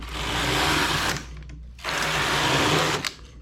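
A knitting machine's carriage running across rows of a tubular cuff, in two loud whirring, rushing passes separated by a brief pause, close up and with no voices.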